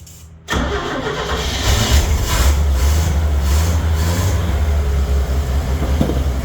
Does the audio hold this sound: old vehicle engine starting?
yes